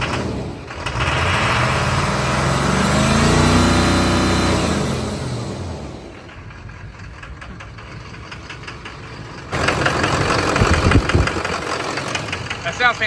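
A Duramax diesel truck engine running with a rough, knocking clatter that swells, fades and then returns louder, with people talking over it.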